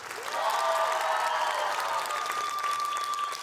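A stand-up comedy audience applauds a comedian as her set ends, a steady crowd clapping with some cheering, overlaid by a sustained tonal hum or music-like note running through it.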